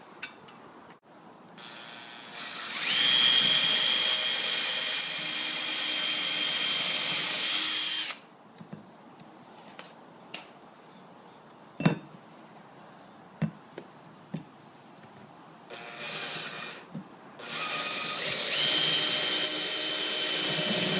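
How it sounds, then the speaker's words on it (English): Power drill pre-drilling a hole in wood while mounting a ceiling TV bracket: two sustained whirring bursts of several seconds each, separated by quieter handling clicks and knocks, close and loud. "So let's make a mark it, then pre-drill it."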